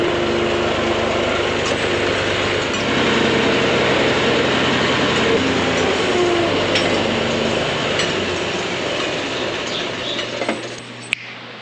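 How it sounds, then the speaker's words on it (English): A tractor engine drones steadily under load, lifting a heavy pallet near its maximum front-end capacity, for a long stretch, loud and close, with a few faint metallic clinks near the end. "This is about the max load my tractor can do on the front end."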